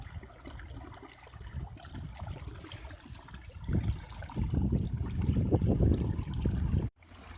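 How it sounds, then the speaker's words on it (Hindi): Irrigation water runs through a dirt channel into a crop field, a close, bubbling trickle and gurgle that swells louder toward the end before cutting off abruptly. "ये प्लेट हटा दी है और ये पानी अगले खाले को जा रहा है और फिर क्यारे में जाएगा"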